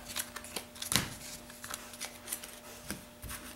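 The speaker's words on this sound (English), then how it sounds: "after a legacy shuffle like that, go ahead and do a butterfly bridge" Magic the Gathering trading cards being shuffled by hand, a run of soft riffling and sliding card sounds in close, irregular bursts with a sharp flurry near the start, heard alone with no voices.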